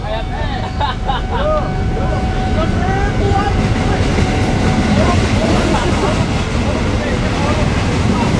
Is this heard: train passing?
yes